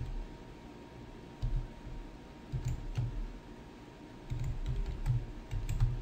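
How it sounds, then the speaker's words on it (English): Typing on a computer keyboard during a radio broadcast, soft clicky keystrokes coming in short irregular bursts with quiet gaps, close but faint. "I'm typing in something there for a minute."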